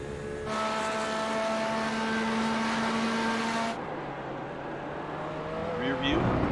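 A Porsche 911 RSR GTE race car engine heard from inside the cockpit at Silverstone, a loud steady high-revving whine holding pitch for several seconds, then dropping off into a lower drone as the car lifts off.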